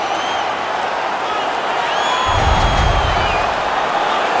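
Arena crowd noise from an NHL 19 hockey game, Colorado Avalanche versus Los Angeles Kings, a steady broad roar that swells louder midway, with a commentator's voice over it.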